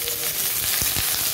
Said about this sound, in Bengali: লাউয়ের খোসাটা দিয়ে দেবো।